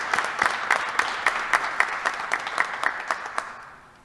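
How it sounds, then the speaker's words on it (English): Audience applause at a City of Hartford press conference on a Google partnership, steady moderate clapping from a room of people, fading out over about four seconds. "Can you please give me a round of applause?"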